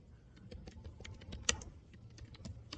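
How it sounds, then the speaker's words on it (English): Quick keystrokes on a computer keyboard as someone types a prompt, a steady run of light, close clicks with one sharper key strike midway and no talk. "let me type a prompt"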